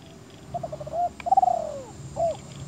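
An electronic bird-caller speaker used for trapping plays a recorded dove coo: a short run of soft cooing notes, then a longer rolling coo and a final brief call, clear against a quiet background.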